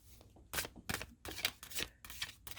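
Thin cardstock fortune cards being shuffled by hand, about six quick crisp bursts of card riffling in an irregular rhythm, close and quiet.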